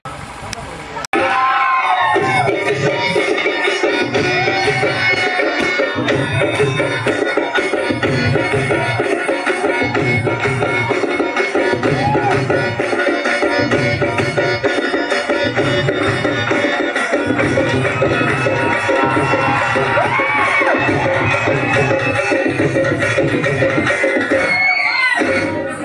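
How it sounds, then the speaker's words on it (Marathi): Loud crowd noise at a Zilla Parishad primary school event in Ghargaon, Shrigonda, with children shouting and cheering over a pulsing rhythmic beat. It starts after a brief quiet moment and stays loud and dense until the end. "जोरदार टाळ्या"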